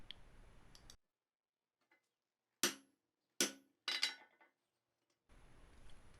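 A blacksmith's hammer striking hot steel over an anvil to form fuller grooves, three sharp ringing blows in quick succession with a lighter tap after them, set apart by near silence.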